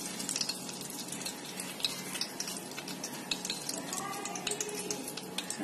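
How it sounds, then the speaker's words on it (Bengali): Dried red chili and torn bay leaf frying in hot oil as a tempering, a soft steady sizzle with light scraping clicks of a utensil against the pan, no talking. "এই যে ফোড়নটা আমার ভাজা হয়ে গেছে"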